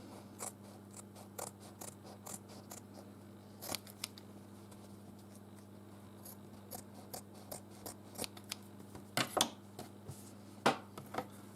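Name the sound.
cutting paper for a wet palette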